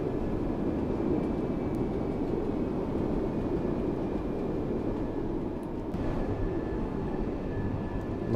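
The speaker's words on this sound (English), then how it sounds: "Love that noise the train makes." A passenger train in Train Sim World 3 on the Waverley to Queen Street line runs at speed with a steady low rumble and broadband rolling noise, continuous and close, interior cab perspective, no talking.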